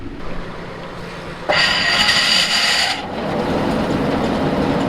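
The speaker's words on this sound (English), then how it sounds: "I'm going to start up this mower, make sure everything works before I head down the hill and start mowing." Tractor-mounted brush mower starting up outdoors: a steady engine drone, then a loud, bright grinding whir kicks in for about a second and a half before settling into a continuous, heavier running roar.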